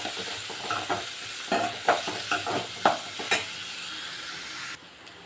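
Onions sautéing in a pan for palak keerai kootu, a steady sizzle with repeated spatula scrapes and stirs, close and moderately loud, ending in a sudden drop to near quiet.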